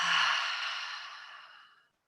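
A long, soft exhale through the mouth during a calm breathing practice, a single breathy rush that starts strong and fades away over about two seconds, close and alone.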